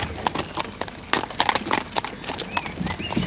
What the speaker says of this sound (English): We're very lucky, you know, to have a pony and trap.